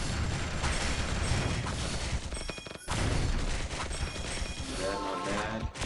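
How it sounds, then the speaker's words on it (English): Rapid bursts of hyper cannon fire blast through a battle in the mobile game Crusader's Quest, with dense crashing impacts and mechanical clatter that briefly drop out before resuming. "Here goes the hyper cannon. Just plow through that."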